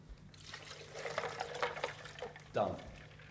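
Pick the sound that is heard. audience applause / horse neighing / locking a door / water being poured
water being poured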